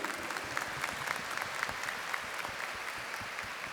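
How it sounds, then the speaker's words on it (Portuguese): Congregation applauding during a Catholic Mass, steady, fairly faint crowd clapping heard at a distance with scattered sharper claps. "Uma salva de palmas."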